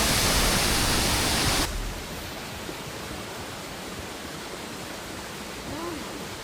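Broad, steady rush of a two-tier waterfall in Sri Lanka, loud and close at first, then dropping after a couple of seconds to a softer continuous roar heard from further away.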